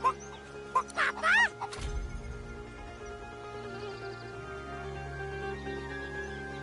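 A rooster in a video game gives a few sharp clucks and a rising crow-like call at the start, followed by a low rumble and steady game ambience.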